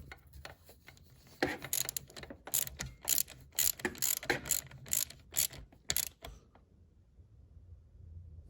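A ratchet tightens a nut on a Cadillac CTS power brake booster, giving bursts of quick, close clicking strokes that stop abruptly, leaving quiet room tone.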